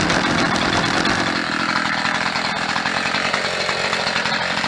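A gasoline chainsaw runs close and loud with its chain spinning, a harsh buzzing whine holding steady with slight wavering in pitch.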